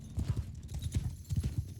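Horse hooves clip-clop in quick, uneven clusters of thudding steps over a dirt path in Mount & Blade II: Bannerlord with the Realm of Thrones mod, fairly close and moderately loud, with no voices.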